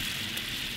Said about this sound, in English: It's raining if you can't tell.